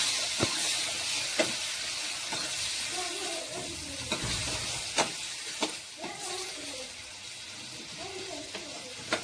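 Chillies and tomatoes are stirred in a sizzling pan for a Kathiyawadi tamarind curry, a constant hiss and steam broken by occasional sharp clinks of the spoon against the pan.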